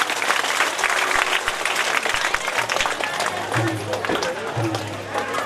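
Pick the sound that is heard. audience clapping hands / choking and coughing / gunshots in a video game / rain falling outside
audience clapping hands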